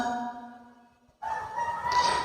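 A rooster crows close by, a loud, drawn-out call that rises sharply after a brief lull, following a fading harmonic tone.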